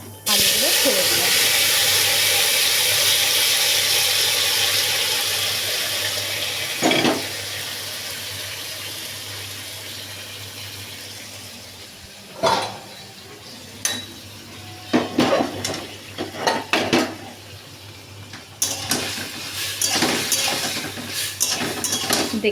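Boiled potatoes dropped into a pan with black cumin tempering give a loud, steady frying hiss that slowly fades, followed by scattered clinks and scrapes of a utensil against the pan.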